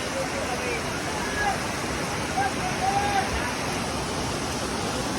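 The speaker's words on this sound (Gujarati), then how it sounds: "પાણીમાં પણ હવે બહુ તેજ તણાવ આવી રહ્યો છે અને આ પાણી કેટલું બધું આવી રહ્યું છે" Heavy rain pours down beside fast-flowing, rushing floodwater, making a loud, constant broadband roar with no letup.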